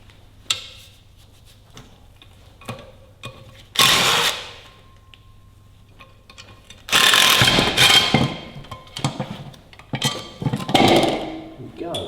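A power tool removing clutch bolts on a TEA20 tractor engine rattles in short bursts and longer runs, an impact-style buzz close by, separated by quiet pauses and small clicks.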